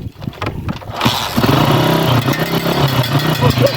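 A motorcycle engine revs up after a short stretch of lower noise, then holds a loud, close, rough running drone with a busy throb for several seconds.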